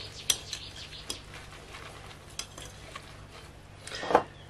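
A utensil clinks and scrapes against a pan while parsley, onion and mint are stirred, giving a few light, irregular taps and a brief louder scrape near the end at close range, with no talking.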